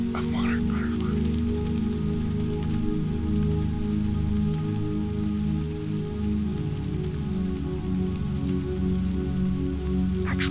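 Millions of monarch butterflies flutter together in a dense, soft, continuous patter like steady rain, filling the whole stretch at an even level with no voices.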